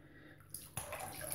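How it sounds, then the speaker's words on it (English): A wet shaving brush is shaken and squeezed out, giving soft spatters and drips of water that grow into a brief, close splashing burst. "get the rest of that water out of that brush"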